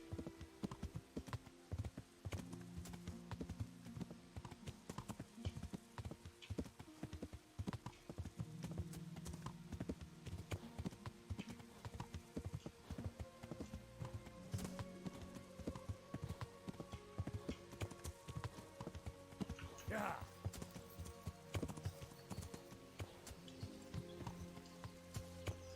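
Horse hooves clip-clop steadily and near throughout a stretch of Kingdom Come: Deliverance gameplay, a continuous rhythmic trotting with a brief whinny-like rise partway through, over game ambience.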